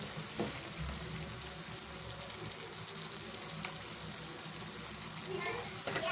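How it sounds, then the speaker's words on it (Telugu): A tomato curry with egg, dried fish and chili powder fries and is stirred in a pan, a soft even sizzle with occasional stirring scrapes at low level. "ఈ కారం బాగా పట్టే వరకు కలుపుతున్నామండి"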